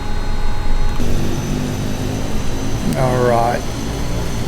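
A propeller aircraft engine drones steadily and loudly from inside the cockpit on the way to Gold Coast airport, a constant hum under a brief spoken word.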